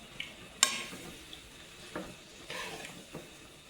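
Sliced onions for pork steak sizzle quietly in a pan while being stirred, with a few distinct clinks and scrapes of a utensil against the pan over a low, steady frying hiss.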